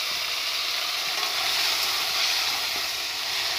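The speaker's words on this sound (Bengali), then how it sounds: "পটলগুলো আমার খুব ভালো করে ভাজা হয়ে গেছে" Pointed gourd pieces rubbed with salt and turmeric fry in hot oil with a continuous, even hiss and crackle. The sizzle is moderately loud and close, and no voices are heard.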